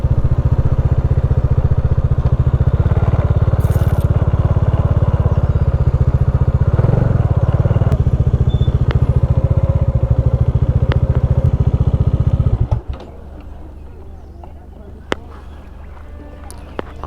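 A Bajaj Dominar motorcycle engine runs close by with a steady, loud rumble and clatter for about twelve seconds, then cuts off abruptly, leaving faint background noise with a few clicks.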